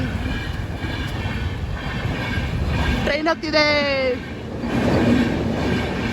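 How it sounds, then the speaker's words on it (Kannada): A train passing close by, continuous rumbling clatter of wheels with a brief squealing screech in the middle, while someone talks over it. "ಟ್ರೈನ್ ನೋಡಿ ಗಾಯ್ಸ್, ಟ್ರೈನ್ ಹೋಗ್ತಿದೆ"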